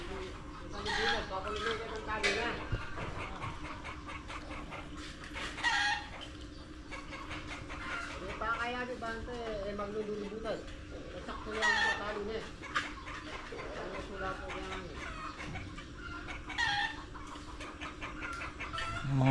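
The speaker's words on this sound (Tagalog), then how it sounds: "Mga manok natin maingay" Chickens cluck throughout near a hut in the Philippines while a rooster crows at moments, the birds close and busy, mixed with people talking intermittently.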